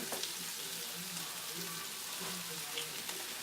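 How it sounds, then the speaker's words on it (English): Food sautéing in a pan while cooking collards, cabbage and smothered cube steak, a steady soft sizzle and crackle running throughout with small pops, moderately loud and unbroken. "And we're going to let that saute."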